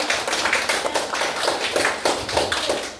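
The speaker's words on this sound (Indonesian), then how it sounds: "Tepuk tangan." A classroom group applauding after a presentation, steady dense hand clapping in quick rhythmic pulses, loud and close, continuing throughout without speech.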